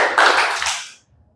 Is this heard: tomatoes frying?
no